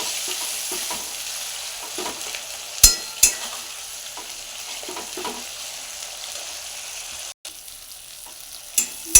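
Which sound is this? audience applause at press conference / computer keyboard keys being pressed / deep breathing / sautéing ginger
sautéing ginger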